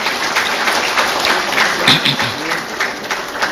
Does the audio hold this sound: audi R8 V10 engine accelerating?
no